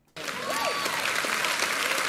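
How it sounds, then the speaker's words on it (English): A large audience at a Dave Ramsey talk bursts into loud, sustained applause and cheering after a brief silent start, with clapping filling the room steadily to the end. "And they cheer for this."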